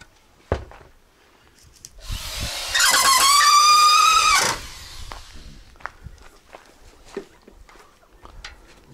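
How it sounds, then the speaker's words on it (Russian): A power drill drives a screw into square steel tubing during roof framing, giving one loud, close whirring burst of about two seconds, followed by scattered knocks and footsteps. "Тут крутим прямо в квадрат трубу, а здесь на черное по дереву."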